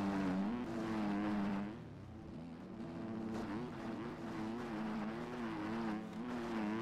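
A 2023 Yamaha 250F motocross bike engine revs steadily while riding a track, a close and continuous buzzing drone whose pitch rises and falls with throttle and gear changes.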